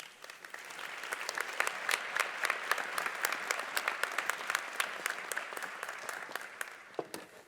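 An audience at a Fall 2021 commencement ceremony applauds to welcome a speaker, with steady, dense clapping from a large crowd that holds for several seconds before thinning near the end.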